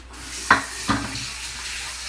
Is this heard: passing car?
no